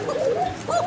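Pigeons kept in a loft coo in two short, rolling calls close by, the second rising slightly before it fades, with no talk over them.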